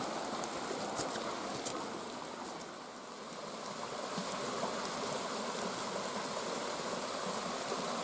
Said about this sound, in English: as you hear, the Triple Creek is running well